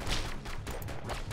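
Machine gun turret firing in a tower defense video game, a dense rapid burst of loud gunfire with repeated sharp shots over about a second and a half.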